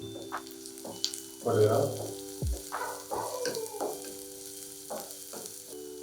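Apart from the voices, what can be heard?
onion, carrot and beans sautéing in oil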